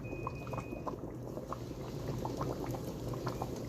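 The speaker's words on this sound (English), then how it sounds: "7 minutes later, it's boiling." A pot of homemade quinine tonic water extract bubbles at a steady rolling boil, a quiet continuous patter of bursting bubbles heard up close with no talking.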